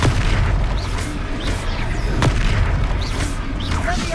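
Confringo fire spells explode in the Hogwarts Legacy video game, a loud run of deep booming blasts with crackling bursts that rumble almost continuously, with no talking over them.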